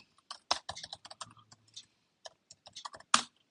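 Computer keyboard typed on nearby as a question is entered for an AI assistant, a quick irregular patter of clear key clicks with short pauses and a firmer final keystroke, no voices.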